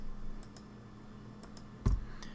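A computer mouse clicks during Premiere Pro keyframe editing: a few faint, sparse clicks, then one louder, sharper click near the end, over a quiet room hum with no talking.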